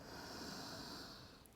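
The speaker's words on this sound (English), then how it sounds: "And a deep breath out." During a gentle yoga session, a single slow, airy exhale flows out steadily and softly, fading at the end.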